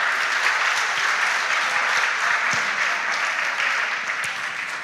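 An audience claps steadily for school quiz teams at a junior high quiz competition, a dense continuous applause that holds for several seconds and then begins to fade.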